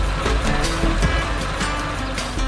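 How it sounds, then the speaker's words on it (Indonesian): An animated orange tow truck strains to haul a heavy load up out of a hole, its engine giving a loud, continuous, labouring drone with rumbling low pulses. "Truk derek itu mengerahkan seluruh tenaganya untuk mengangkat beban berat dari"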